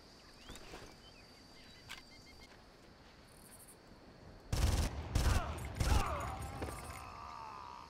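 Gunfire from the Far Cry video game: a quiet stretch with faint ambient insect chirps, then three loud, close bursts of shots in quick succession, followed by lingering outdoor ambience.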